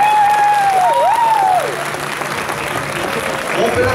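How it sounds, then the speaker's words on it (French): Audience applause fills a cosplay contest stage at the Man.Ga.Mes 2022 convention, a dense, steady wash of clapping with a thin whistling tone gliding over it near the start; a voice may be present. "On peut l'applaudir bien fort"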